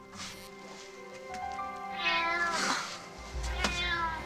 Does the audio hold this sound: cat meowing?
yes